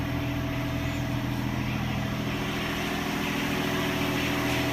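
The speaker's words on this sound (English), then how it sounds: "so I'm going to be driving that tractor around" A tractor engine idles steadily and close by, a low, even rumble with no speech over it, on a warm day before leaf clearing in a yard.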